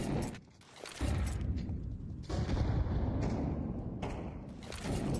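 Heavy booming blasts and gunfire in a competitive online first-person shooter match, with a loud grenade-like detonation followed by sustained rumbling bursts and a few sharper shots.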